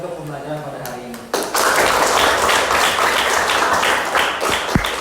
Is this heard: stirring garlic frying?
no